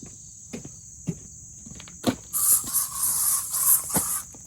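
Short hissing bursts of DEET bug spray aimed onto clothing, first a few brief puffs then a longer sustained spray, close by over a steady high insect-like whine.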